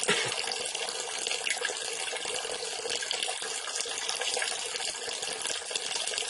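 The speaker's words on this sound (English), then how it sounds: "Now we're going to plug it in and watch the water come." Water rushes steadily through the five filters of a Wellsys bottleless water cooler, a constant broadband hiss like a running tap into a basin, close and even throughout with no talking.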